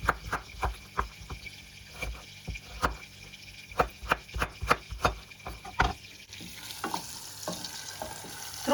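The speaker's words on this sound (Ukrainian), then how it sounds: "поки присмажиться наша цибуля, розм'якла наша цибуля" Onion softening in a pan for pumpkin cream soup, a steady close sizzle broken by frequent sharp clicks and scrapes of a utensil stirring, the frying hiss growing brighter and fuller toward the end.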